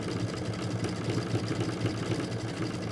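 A sewing machine stitches a fabric bowl in a steady, fast mechanical whir with a fine rhythmic clatter, continuous and fairly quiet, with no talking.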